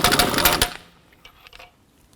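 An impact gun spins lug nuts off the front wheel of a 2007-2014 Cadillac Escalade through a 22mm socket, a loud dense rattling burst that stops abruptly after under a second, followed by faint scattered clicks.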